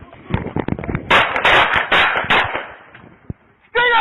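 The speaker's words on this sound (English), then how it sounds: "Shots fired" Several sharp gunshots ring out in quick succession during a police traffic stop, loud and close, followed by a quieter stretch and then a shouted voice.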